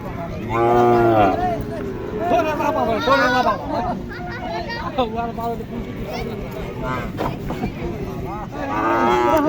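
Loud mooing from Sahiwal cattle close by at a cattle show, the first moo near the start, with people talking and a busy crowd around them.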